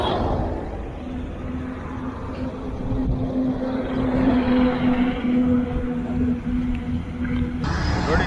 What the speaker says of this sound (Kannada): ತುಂಬ ಸ್ಪೀಡಾಗಿ ಬರ್ತಿದೆ ಗಾಡಿ.